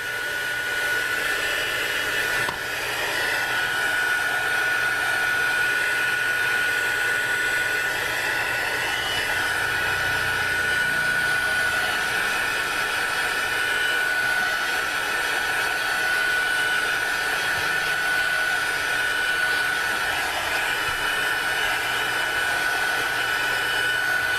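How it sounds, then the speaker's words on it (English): A heat tool blows steadily over a mixed media artwork as it dries, giving a loud, close, continuous whirring hiss with a high whine that lasts the whole time after a brief click near the start. "And then I'm taking the heat tool again and trying to dry it off."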